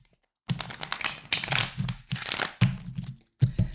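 Tarot cards being shuffled by hand, close and fairly quiet: several quick papery riffles and flicks in short bursts separated by pauses.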